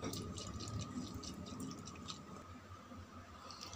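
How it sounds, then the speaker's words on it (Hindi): Water drains from a coconut pierced through its three eyes, a continuous, soft trickle and drip heard up close without talk. "जितने भी पानी अंदर है ना वो सारे हम निकाल देंगे"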